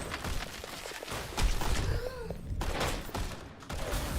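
Rapid bursts of gunfire from the Overwatch video game, several clustered shots in quick succession with thuds between, mixed under game effects and a little voice chatter.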